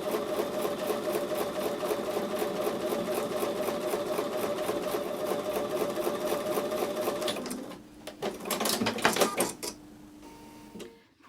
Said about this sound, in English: I'm going to go back over to the sewing machine and sew with a 1/4 inch seam.